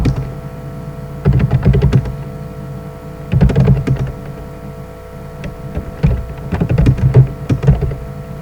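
Computer keyboard typing in irregular bursts of quick key presses separated by short pauses, over a steady electrical hum, fairly close and alone without talk.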